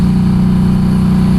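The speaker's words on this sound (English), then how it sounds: "I do have an aftermarket exhaust on this thing already." A motorcycle fitted with a loud aftermarket exhaust idles nearby, a steady, throaty low-pitched engine drone with an even pulsing rhythm, continuous and fairly loud with no talking.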